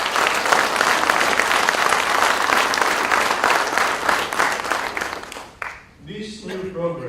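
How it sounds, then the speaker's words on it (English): A room of partners and guests at an ICRISAT gathering applauds loudly and steadily, the clapping fading out near the end as a voice begins speaking. "can we give a big round of applause to all our partners and guests?"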